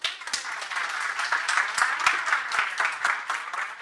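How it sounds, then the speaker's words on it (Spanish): Applause from the audience at a WordPress talk on custom tables, steady clapping of a room full of people welcoming the speaker, fairly close and sustained with sharp individual claps standing out. "Con un aplauso y adelante."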